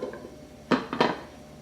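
A lid goes back onto a pot of simmering homemade beef stew with two quick, close clinks about a third of a second apart. Quiet kitchen ambience fills the gaps.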